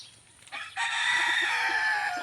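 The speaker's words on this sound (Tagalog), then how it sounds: "Dito madaming manok." Close by in a dark, rainy backyard, a rooster crows loudly and holds the call, with a few chicken clucks beneath it.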